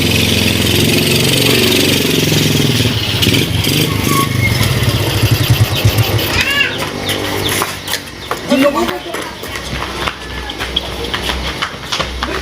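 A motorcycle engine runs at a rumbling idle under loud people talking, with rooster-like calls in the background and sharper revving bursts toward the end.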